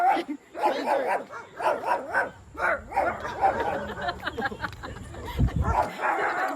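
A dog barks repeatedly nearby in short bursts, mixed with whimpers and yips while people talk over it.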